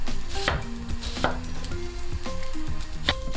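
A knife cuts an onion into large cubes for a panzanella salad, making a few sparse, crisp chopping taps on a board over steady background music.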